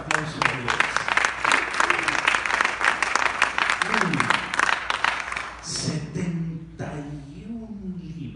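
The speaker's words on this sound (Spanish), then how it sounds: "Un aplauso a Dios." Church congregation applauding during a Spanish-language sermon, a dense wash of clapping that thins out toward the end while a voice speaks over it.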